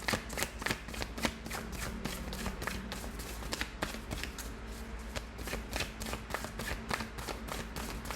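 Tarot cards shuffled and laid down in rapid, steady snapping riffles, close and crisp throughout, with no talking over them.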